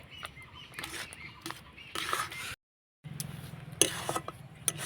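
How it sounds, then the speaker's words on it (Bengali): Semolina being stirred continuously in a pan for Mishti Doi halua gives light scraping and pattering strokes. A brief silent gap breaks the stirring before it resumes. "সুজিটাকে এভাবে অনাবর্ত নাড়াচাড়া করে আমি ঝরঝরে তৈরি করে নেব"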